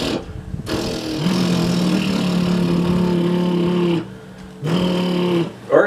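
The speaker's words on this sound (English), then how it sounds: "I want you guys to blow a raspberry and vocalize" A didgeridoo is played with vocalizing or humming through it, making a buzzing, reedy drone. It sounds in two sustained blows separated by a short pause, with no talking.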